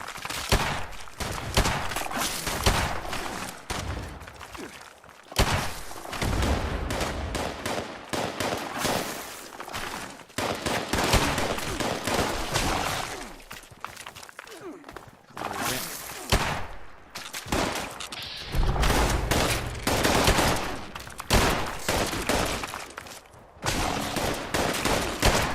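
Rapid gunfire from the video game Fallout 76: dense, loud volleys and bursts in quick succession, with brief lulls, running through a busy mix of game noise.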